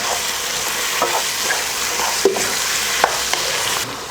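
Chicken kuzhambu ingredients with salt and turmeric are stirred in a sizzling pan, with a steady fry hiss and a few scraping knocks of the spoon against the metal, close and fairly loud.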